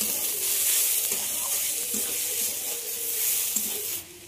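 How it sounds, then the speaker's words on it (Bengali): Turmeric and Kashmiri chili powder fry in a pan with a steady, soft sizzle, close and continuous with faint stirring scrapes and no talking. "পরিমাণ মতো হলুদ গুঁড়ো, অল্প করে কাশ্মীরি লঙ্কা গুঁড়ো, ভালো করে ভেজে নেব"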